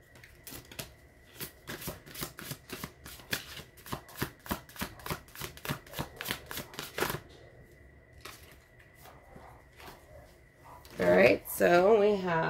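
A deck of tarot cards being shuffled, giving a steady run of quick riffling flutters for several seconds, close and fairly loud, then a pause before a voice speaks briefly at the end.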